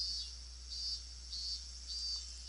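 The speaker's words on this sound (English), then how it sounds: "The sound of cicadas soaks into his body." Cicadas chirping in the video game Higurashi When They Cry: a pulsing high-pitched buzz rising and falling in regular bursts over a steady low hum.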